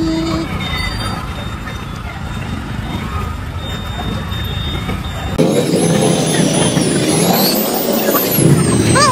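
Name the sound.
road traffic with trucks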